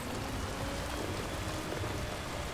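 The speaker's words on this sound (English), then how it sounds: "Yes, we are caught in the rain." Rain falling in the video game Death Stranding, a faint, even wash of dense patter with no breaks, heard alone without any speech.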